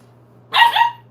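A three-month-old puppy gives one short bark, close and fairly loud, with a quick double-peaked yip shape. A steady low hum runs underneath.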